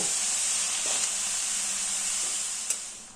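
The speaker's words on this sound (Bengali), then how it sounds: "গ্যাসের ফ্লেমটা হাইতে দিয়ে বাঁধাকপিটাকে তিন চার মিনিট একটু ভেজে নেব" Cabbage frying in a pan over a high gas flame, a steady close hiss and sizzle throughout with a couple of faint clicks, no talking.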